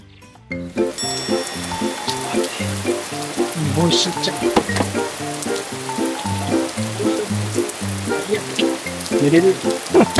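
Steady rain hisses in the background throughout at a campground in Saga, Japan, beneath a repeating musical tune.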